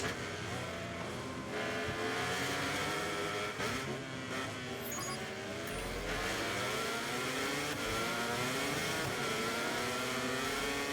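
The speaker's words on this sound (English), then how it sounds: "KTMs are close. I can hear them. I can feel them." KTM racing motorcycle engines in MotoGP 24 scream continuously at high revs, pitch rising and falling through gear changes as several bikes run close together in a dense, loud roar.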